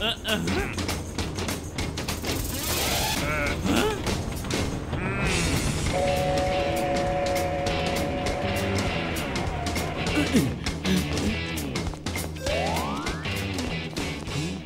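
An animated train rumbles along with a steady mechanical clatter while cartoon voices talk over it. A sustained horn-like tone and a rising whistle cut through partway.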